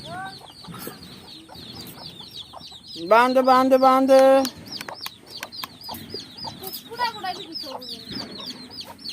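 Chickens cluck and chirp repeatedly around a rural home, with one loud, drawn-out call in the middle, while people talk and call out nearby.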